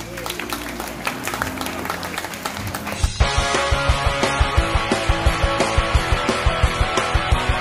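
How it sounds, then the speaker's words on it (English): An audience at the River Safari show in Singapore applauds for Spike, the first animal brought out, clapping and cheering under a presenter's amplified voice before rhythmic music with a steady pounding beat takes over. "how about a round of applause for Spike?"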